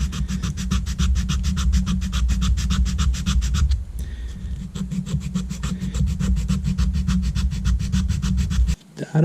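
Rapid back-and-forth sanding with 400 grit automotive sandpaper on a drone part, a loud close rhythmic rasp with a brief pause midway.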